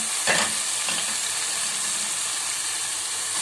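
Eggplant sautéing in a pan, a dense, continuous sizzle close by with a quick scrape of stirring near the start, loud and even to the end.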